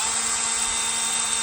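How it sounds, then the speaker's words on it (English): A power drill hooked to a square-ended lift cable runs at a steady, loud, continuous whine, turning the cable to lower the lift. "Now, as you see, it's hooked up to my drill."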